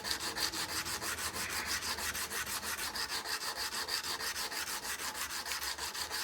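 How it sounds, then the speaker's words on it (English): A Remington 722 trigger guard is hand polished with quick rhythmic back-and-forth rubbing strokes, a steady close scraping swish repeating evenly throughout. "but this is really what hand polishing looks like"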